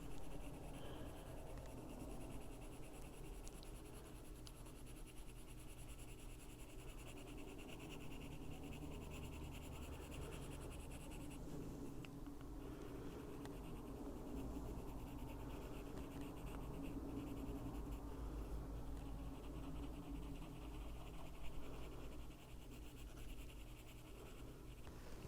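Olive green colored pencil scribbled back and forth on paper to flatten its point, a steady close scratching rub that runs continuously with no talking.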